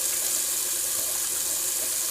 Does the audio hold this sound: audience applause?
no